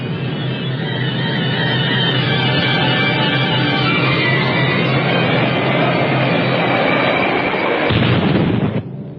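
Heavy bombing of Pantelleria in 1943 during World War II, heard as a continuous, loud roar of overlapping explosions and rumbling blasts throughout. A sharper burst near the end cuts off abruptly.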